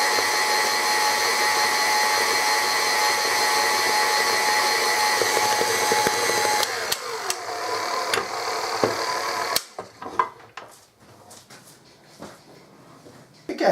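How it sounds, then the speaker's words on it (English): An electric mixer beats chocolate cake batter in a bowl with a steady, loud whir for several seconds, then slows and stops, leaving scattered clinks and knocks. "We're going to beat that for about 3 or 4 minutes until we get a nice smooth paste."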